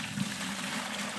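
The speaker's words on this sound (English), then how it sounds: "So we'll pour some water into the bucket," Water pours into a bucket as a quiet, steady splashing trickle, faint and continuous over a short stretch with no voices.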